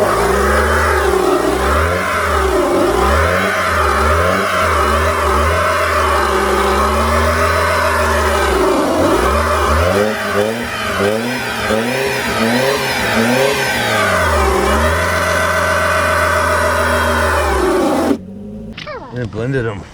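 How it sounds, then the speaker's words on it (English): A car does a burnout with Orbeez packed in its exhaust pipe, the engine revving hard in loud, sustained, wavering surges before cutting off abruptly near the end. "Now we're going to do a burnout in a little bit bigger bucket."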